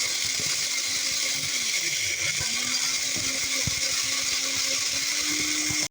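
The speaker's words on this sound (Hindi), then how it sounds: "अब मैं यही जूसर ब्लेंडर में जो है इसे बारीक करूँगी।" A juicer blender grinds dry spices for a masala mix, a steady loud whirring motor that dips briefly in pitch as the load shifts, then runs on until it cuts off abruptly.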